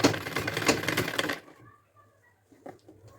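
Sewing machine stitching a potli bridal bag at home, a rapid close mechanical whirr for just over a second that then stops, followed by faint handling clicks.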